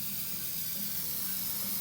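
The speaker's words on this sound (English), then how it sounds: "we're just spray painting over it with black" Black spray paint hissing from an aerosol can onto a BMW E46 car part, a steady continuous spray lasting about two seconds at close range with no talking.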